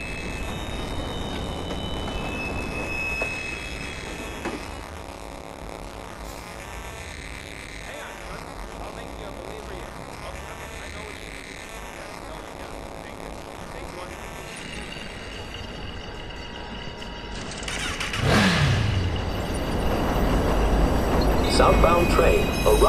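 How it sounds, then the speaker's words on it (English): A train pulls into a subway station in the Watch Dogs video game, a sustained low rumble with rail noise that swells louder near the end, with an announcement voice over it. "Northbound train arriving shortly."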